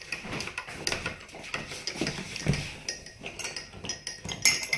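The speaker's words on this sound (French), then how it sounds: "vous faites un petit tour de cuillère" A spoon stirs sugar into a hot drink in a cup, clinking and scraping against the sides in quick repeated taps at close range, without speech.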